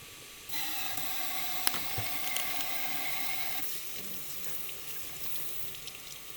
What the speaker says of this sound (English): Don't want to have the water on too forcefully so it doesn't splash all over the place